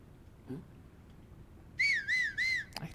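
A person whistles three short rising-falling notes in quick succession, clear and close, after a faint earlier sound, in the game Zelda Tears of the Kingdom.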